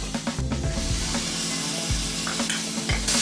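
Green peas, carrot, green chilies and grated coconut sizzle in a pan over sautéed onion for pulao, a continuous near frying hiss with repeated spoon knocks and scrapes against the pan.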